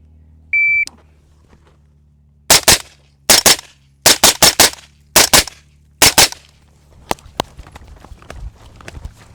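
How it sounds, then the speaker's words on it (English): A Sig Sauer 556 rifle fired at an outdoor range: a short beep, then a rapid string of loud, sharp gunshots in quick pairs and clusters, followed by faint clicks and movement. "we're gonna go down there, throw our ears on, and start shooting some stuff."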